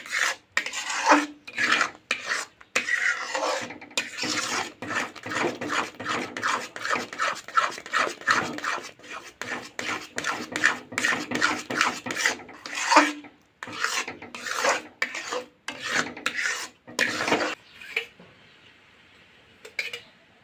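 A spoon rasps and scrapes in repeated strokes against a pan while thick Karachi halwa mixture is stirred, the rhythmic scraping loud and close before fading near the end.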